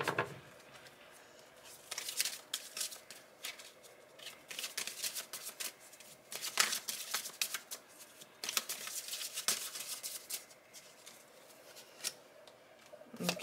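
Tarot cards are shuffled close by in repeated crisp bursts of riffling and flicking, broken by brief pauses, with no voices over it.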